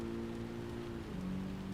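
Rain patters steadily in the racing game Gran Turismo 7, a dense hiss mixed with a droning engine tone that shifts pitch as the car accelerates.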